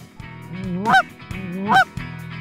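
Loud, close goose honks, two long drawn-out calls rising to a sharp peak, repeating in a steady rhythm.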